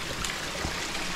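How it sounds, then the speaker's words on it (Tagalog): A mountain stream runs out in the countryside, its water flowing and trickling in a steady, close wash of sound with no voices over it. "Oh, sapa oh."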